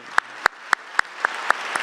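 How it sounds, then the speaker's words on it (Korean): Seven sharp, evenly spaced claps ring out about a quarter second apart in a church during an anniversary evening worship service, crisp and rhythmic against a quiet room. "우리 하나님께 다시 한번 박수의 영광 올려드리겠습니다."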